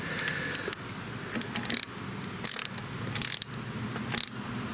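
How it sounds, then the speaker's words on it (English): A socket wrench ratchets in quick bursts of close, crisp clicks while it tightens the front fork bolts on a Honda Goldwing motorcycle, with short pauses between the strokes. "with the clickety-clickety socket wrench. Click, click."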